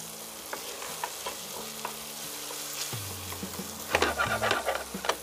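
Green capsicum sizzling in hot oil in a pan for a lauki sabzi, a steady close fry with scraping stirs and clinks growing busier toward the end, no talking.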